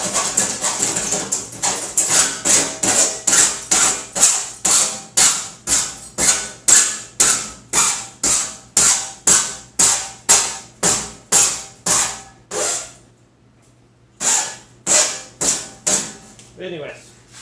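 Metal sheeting being cut by hand for a ZLINE 30-inch oven hood install: loud, close rasping strokes in an even rhythm of about two per second. The strokes break off briefly, then resume for a few more.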